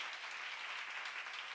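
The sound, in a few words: congregation applause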